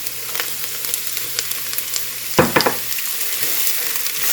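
Chopped onion sizzles steadily in a hot pan for chili beans, a constant broad frying hiss with a brief louder burst of crackle and stirring midway, no voices.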